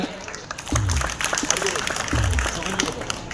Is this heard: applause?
yes